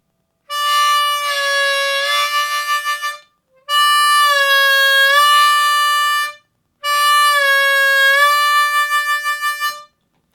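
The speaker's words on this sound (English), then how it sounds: "So we're going to play 3 notes just using one breath of air, and it's going to sound like this." Harmonica playing a blues riff three times, each phrase a single held breath moving from the 4-draw note down into a bent 4-draw and back up, with short silences between phrases and a wavering tail at the end of each.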